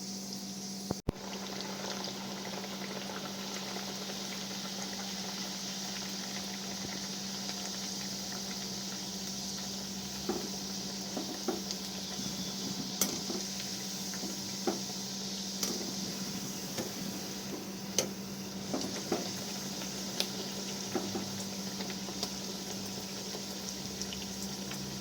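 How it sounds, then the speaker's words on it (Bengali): Fish kochuri deep-fry in hot oil, making a continuous bubbling sizzle with scattered small pops and crackles, close and steady with no talking. "এইভাবে আমি প্রত্যেকটা কচুরি ভেজে নেব"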